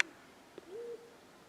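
A faint bird call carries from the seafront, a single soft, drawn-out hooting note after a brief click, alone against quiet background noise.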